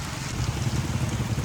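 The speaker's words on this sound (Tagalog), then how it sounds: "Lakas yung ulan ngayon." Heavy rain pours steadily over a municipal hall area in Bongao, Tawi-Tawi, a dense continuous wash of drops that stays close and even throughout, with no voices.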